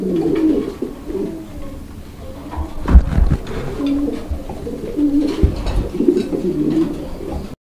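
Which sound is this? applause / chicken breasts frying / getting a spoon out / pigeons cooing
pigeons cooing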